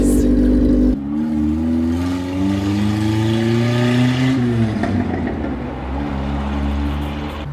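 A Toyota TE72 Corolla accelerating down an alley, its engine revving up steadily through one gear with a rising tone, easing briefly, then pulling again, loud and close.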